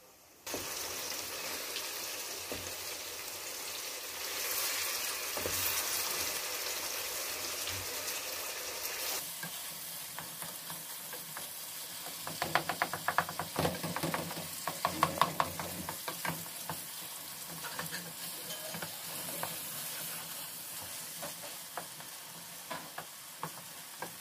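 Goat brain frying with eggs and onions in a pan, a steady loud sizzle broken by scraping stirs and clatter, with a brief run of sharper utensil knocks midway; no talking.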